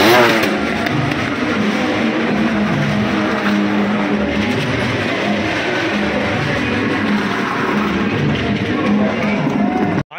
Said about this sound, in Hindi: उसी में बाइक चल रही है, उसी में कार भी चल रही है।